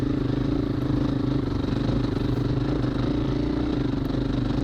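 A dirt bike engine runs continuously with a buzzing, throbbing drone while riding through a loose hayfield in a muddy spring hare scramble race. It stays close and loud throughout, with a little clatter and no talk.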